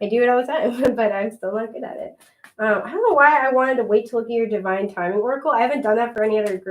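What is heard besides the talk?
No everyday noise stands out behind the speech.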